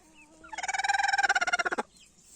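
A broody Indian hen gives a rapid, rhythmic run of low, throaty clucks lasting about a second, close and clear against a quiet background.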